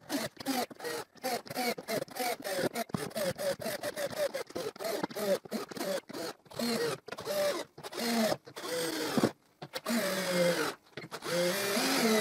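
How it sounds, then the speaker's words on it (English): A power screwdriver drives screws through wooden strips into welded wire mesh for a wooden ventilation window: repeated short whirring bursts in rapid succession, close and fairly loud, separated by brief gaps. "And I screw the strips on the welded wire mesh."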